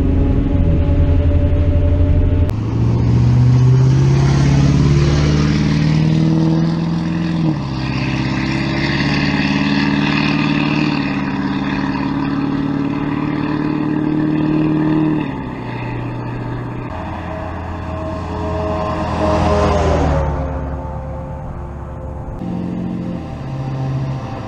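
A truck on Mud Grappler tires drives past, with a loud low engine rumble, gear changes and rising and falling revs, and steady tire roar throughout, with no voices.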